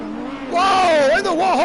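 Lamborghini race cars in a racing video game at Spa on a wet track whine past, rising and falling engine tones sweeping up and bending in a quick close pass, with a commentator's voice and crowd-like babble underneath.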